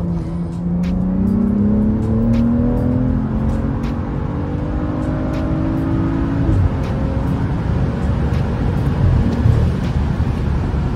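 A Stage 2 tuned BMW F30 335i accelerates hard from inside the cabin, its engine climbing steadily in pitch through the first gear, then a loud, sustained roar with sharp clicks and rumble, close and without speech.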